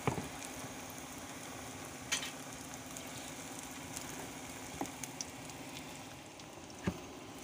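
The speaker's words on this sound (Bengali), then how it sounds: "তো চলুন একে একে সব পকোড়াগুলো ছেড়ে দিচ্ছি" Chicken pakoras frying in medium-hot oil give a steady, fairly quiet sizzle and bubble, broken by a few sharper pops and spatters as the pieces settle in one by one.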